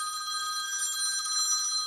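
A ringing bell on a top-secret Continental Air Defense Command telephone line in 1955, sounding as a steady, continuous electric ring for about two seconds with no voices.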